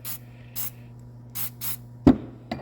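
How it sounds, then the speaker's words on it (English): Short hissing bursts of WD-40 Spray and Stay lubricant sprayed onto a vintage Snap-On ratchet gear, several quick blasts in a loose rhythm, close and clear over a steady low hum, with a couple of sharp clicks near the end. "I'm going to spray down this gear."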